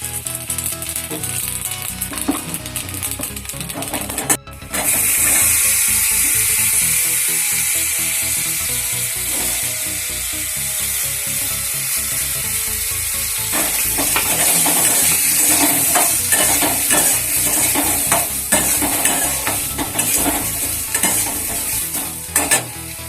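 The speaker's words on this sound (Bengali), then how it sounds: "এই তেলের ভিতরেই দিয়ে দেবো তিন চার কাপ রসুন ছোটো করে দিয়ে দিচ্ছি" Chopped garlic fries in hot oil with a loud, steady sizzle that erupts after a brief gap, with stirring clatter and scraping running through the bright hiss and a denser burst of crackle near the end.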